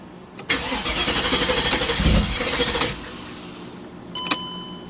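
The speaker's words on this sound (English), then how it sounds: "see what happens right now for the cold start." A Mercedes CLK55 AMG with the supercharged M113K engine and an O2 sensor issue makes a cold start. The starter cranks briefly, then the engine catches and flares loudly before settling into a lower, steady idle. A short chime sounds near the end.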